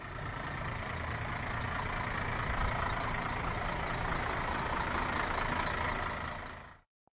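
A road train truck rumbles in a steady, loud, broadband drone for several seconds before cutting off abruptly, with no voices over it.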